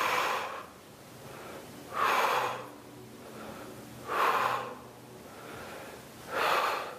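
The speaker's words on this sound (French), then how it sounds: "on souffle sur la montée et on inspire sur la descente" Rhythmic exercise breathing during a bodyweight strength workout, loud close breaths roughly every two seconds, each a breathy rush alternating exhale and inhale, with no talking.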